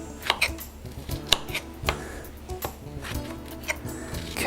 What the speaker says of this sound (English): Cut the tops off them